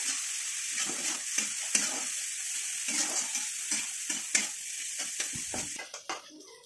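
Spices with turmeric powder sizzle in a hot pan while being stirred, a steady close frying hiss broken by scraping strokes of the spoon, ending with a few clattering knocks.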